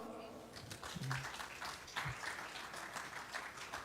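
Applause from the audience at a United Nations conference on a slavery resolution, a steady spread of clapping across the hall with a few voices mixed in.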